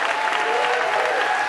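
A short stretch of dense crowd clapping for a minister at a gathering, steady applause throughout with a faint tonal hum underneath.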